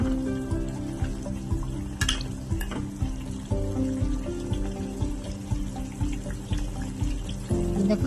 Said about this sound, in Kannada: ಚೆನ್ನಾಗಿ ಕುದಿಯಲ್ಲಿ ಬಿಡಬೇಕು ನೋಡಿ ಕುದಿ ಬಂತು ಇವಾಗ